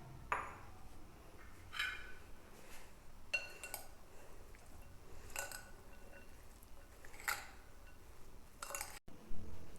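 Noodles and three eggs get mixed together in a bowl, with faint, scattered clinks and pings of a utensil striking the bowl against quiet background.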